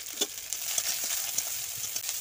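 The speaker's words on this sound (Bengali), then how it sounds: "প্রথমে কড়াইতে তেল দিয়ে দিলাম, তারপরে পেঁয়াজ দিলাম" Onions and green chilies frying in oil in a wok: a steady, fairly quiet bright sizzle with small popping spikes scattered throughout, no voices.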